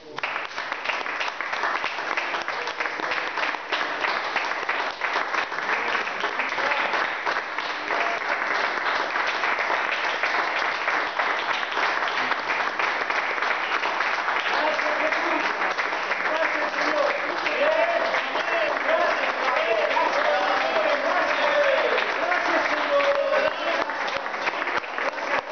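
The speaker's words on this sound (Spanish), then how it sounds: "Eleva un aplauso al Señor." A church congregation claps steadily for over twenty seconds, a dense sustained patter with voices calling out and talking over it throughout.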